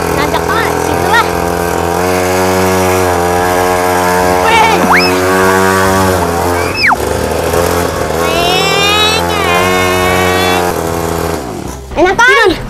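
A new trail motorbike climbs a steep hill, its engine revving loud and close with rising and falling pitch. Voices talk over the engine.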